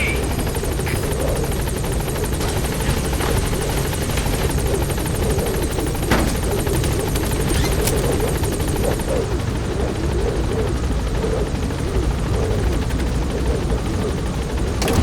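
The Pequod helicopter hovering at a landing zone in Metal Gear Solid 5: The Phantom Pain, a loud steady rotor drone and engine hum that hold throughout without letting up.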